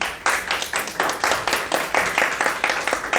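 An audience at a launch event for bill PL 575/2022 on human rights and business claps in a steady run of rapid hand claps, sustained and fairly close throughout.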